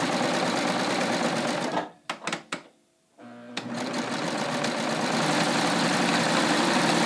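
A Baby Lock Ovation serger stitches a rolled hem, its steady loud mechanical whir running close up, briefly stopping and restarting with a few clicks as the stitch length is adjusted, then continuing evenly.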